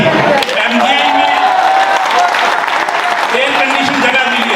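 Audience clapping in an air-conditioned hall at a solar products exhibition at the Mahatma Gandhi Institute in Delhi, a sustained dense round of applause for several seconds with voices and crowd chatter mixed underneath.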